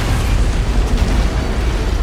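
An antimatter charge detonating aboard a ship in a Halo: Combat Evolved cutscene, a loud sustained low rumbling boom that fills the whole moment without letting up.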